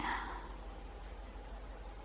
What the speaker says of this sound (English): I'm using a 6B, which will give me a really dark